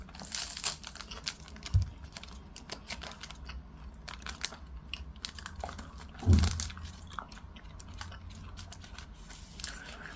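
Crunchy Chinese seaweed snack sheets being eaten, quiet close crunching and crinkling bites scattered over ten seconds with two sharper, louder bites standing out.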